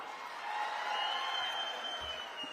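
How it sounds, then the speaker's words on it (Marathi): An audience at a Punyashlok Ahilyadevi birth-anniversary gathering claps in a steady, even wash of applause that holds for a few seconds, with faint crowd murmur underneath. "त्यांच्यासाठी जोरदार टाळ्या वाजवा"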